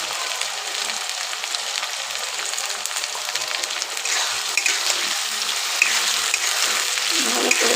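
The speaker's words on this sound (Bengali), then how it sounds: "ভালো করে কষাতে হবে।" Onion with ginger-garlic paste and spices sautés in a pan, giving a steady, hissing sizzle heard close up with light scraping and no talking.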